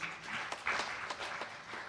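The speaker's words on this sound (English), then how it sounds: "Give them a big round of applause." Audience applause at a Maha Shivratri gathering, a faint, thin scatter of hand claps from a small crowd lasting a couple of seconds.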